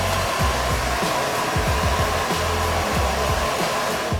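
A handheld hair dryer blows a continuous loud whoosh close by while drying and lifting the roots at the back of a short men's dandy cut, with soft low thumps from handling under the steady airflow.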